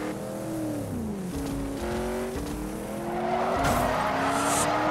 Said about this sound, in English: Oh, okay, I've hit the other car instead.